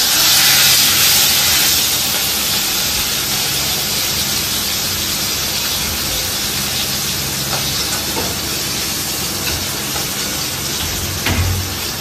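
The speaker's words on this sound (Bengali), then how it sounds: "মাছটা ঢাকা দিয়ে ভাজা হচ্ছে যাতে ফুটে না আসে" Fish fries in hot oil under a lid in a home kitchen, a loud, steady hiss like steam that runs unbroken for about twelve seconds, with no voices.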